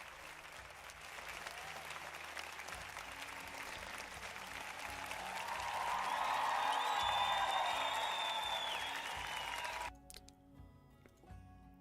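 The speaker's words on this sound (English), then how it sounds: "Okay, here we go. Applause!" A canned applause sound effect plays as a stream intro: a crowd claps steadily and swells louder before it cuts off abruptly, followed by a quiet tail of faint background sound.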